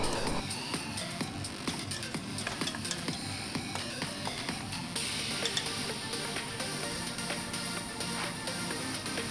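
Yogurt stirred into hot separated oil in a pressure cooker for spicy chicken biryani, giving a steady close sizzle with scraping and stirring clatter throughout, no voices.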